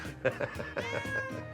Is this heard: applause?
no